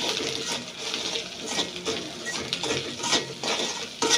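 A spatula scrapes and clinks against a pan, stirring chili powder and salt into a vegetarian potato curry, in uneven close strokes with metallic taps and no speech.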